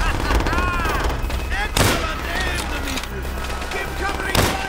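Rapid, dense gunfire in the World War II shooter Call of Duty: World at War, with a constant roar of shots, booming impacts and a voice speaking over the din throughout.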